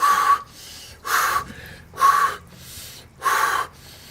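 Heavy breathing in an ice bath, with four loud sharp gasping breaths at a steady rhythm, about one each second, and short quiet pauses between them.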